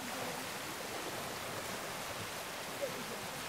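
Floodwater flows in a broad, even rush of noise, a steady watery roar with one brief knock near the end and no clear speech.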